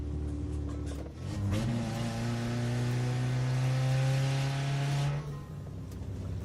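A video game car engine revs up after losing its exhaust pipe, holding a high, buzzing drone for several seconds before dropping off, loud and close, with a synthetic tone.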